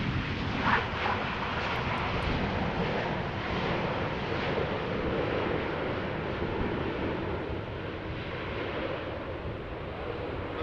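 Airplane landing at Amsterdam Schiphol Airport just after Storm Elin, heard as a steady, broad roar of jet engines mixed with wind buffeting the microphone, constant and fairly loud for about ten seconds, with no talk.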